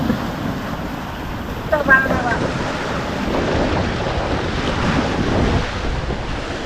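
Choppy waves on the Nikli river in Kishoreganj's haor country wash in steadily, nearby and loud, with heavy wind rumble on the microphone and a brief bump partway through.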